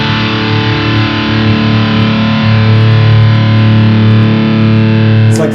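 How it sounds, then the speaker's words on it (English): Distorted electric guitar chords ring through a Friedman amplifier, a loud, thick sustained wall of overdriven tone with steady held chords and no voices. "I just want to play chords on your amps"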